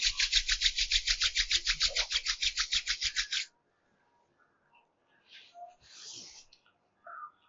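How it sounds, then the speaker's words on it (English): Palms rubbing briskly together during a guided meditation make a rapid, even run of close dry swishes for about three seconds, then stop, followed by faint rustles and quiet background sounds. "Rub your palms, place them on the face"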